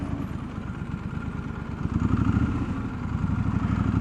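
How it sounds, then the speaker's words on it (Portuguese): High-displacement motorcycle being ridden, its engine a steady low rumble with fluttering exhaust pulses that swells slightly partway through, heard close and without talk. "E isso que eu tô com uma moto de alta cilindrada, né?"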